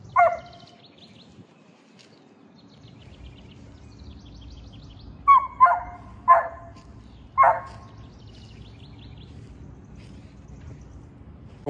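A coonhound bays and barks up a tree at a raccoon in short repeated bursts, one bark at the start and a cluster of four loud barks later, with faint bird chirps and a quiet outdoor background between.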